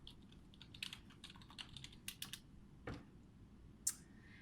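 Someone types an email address and password on a computer keyboard to log in on a typing website: sparse, quiet clicks come in short bursts with brief pauses, alone in a faint room hush.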